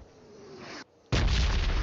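Video game explosions: a quieter rumble that cuts out, then a sudden loud, sustained blast that roars on to the end.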